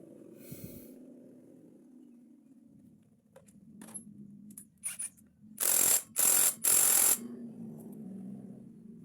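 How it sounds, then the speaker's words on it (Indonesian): An impact wrench tightens bolts during starter service on a Honda Beat FI motorcycle, delivering three loud, sustained rattling bursts in quick succession after some quieter metallic clicks and handling noises. "Dan kita baut, kita impact secukupnya saja."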